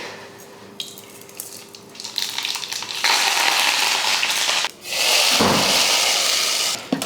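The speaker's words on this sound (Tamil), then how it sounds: "இப்போ சட்னிக்கு வந்து நம்ம தாளிச்சிருவோம் தாளிக்கிறதுக்கு எண்ணெய் ஊற்றிருக்கேன்" Loud frying sizzle of hot oil for tempering chutney, crackling and spitting in bursts with a brief dip midway, then surging back strongly.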